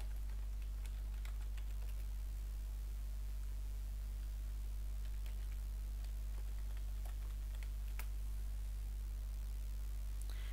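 Keys clatter softly on a computer keyboard in scattered light taps over a steady electrical hum and hiss, faint and close, with no voices.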